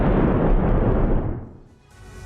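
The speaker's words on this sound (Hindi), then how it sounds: "जोरदार विस्फोट था जिसकी गूंज दूर तक सुनाई दी" A heavy guided bomb explodes in a war zone, a loud, deep, broad roar that rumbles on and fades into a lingering low echo, with no voices over it.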